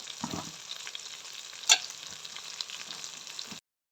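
Ground spices such as turmeric and coriander fry and get stirred in a pan for prawn pulao, giving a soft, steady sizzle with occasional scraping and one sharp clink, fairly quiet and with no talk.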